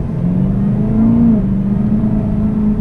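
A supercharged Camaro ZL1 with a 650-horsepower engine is driven along, giving a loud, steady, close-up low engine drone that swells slightly in pitch partway through, with no talk.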